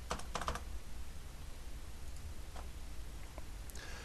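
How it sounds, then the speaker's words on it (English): A password is typed on a computer keyboard: a quick burst of close key clicks at the start, then a few sparse, isolated taps, fairly quiet and with no voices. "I will just simply type in my password."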